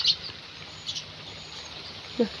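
A few faint, short sparrow chirps in a village during drizzle and cold wind, one at the start and another near the end, over a quiet background hiss.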